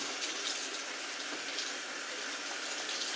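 Tap water runs to dampen a washcloth, a steady hissing stream splashing continuously at a moderate level, close by and heard on its own.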